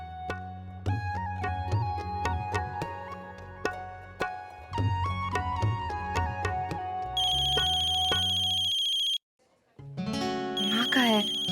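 A phone plays a repeating ringtone melody in a TV drama scene, loud and steady throughout, ending in a brief electronic beep.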